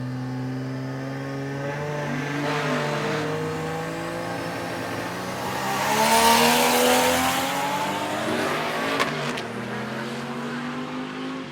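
A 600+ horsepower AMC Eagle drag car with an inline-six engine and an open exhaust cutout, idling and revving loudly and close by, swelling to a harsher peak midway before settling back.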